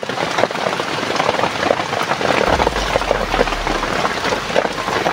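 Rain falls in a continuous loud, dense hiss with pattering drops on surfaces, and a low engine-like hum joins partway through.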